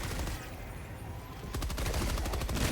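Rapid automatic gunfire from Helldivers 2 rattles loud and close, starting about halfway through the clip after a burst of heavy noise.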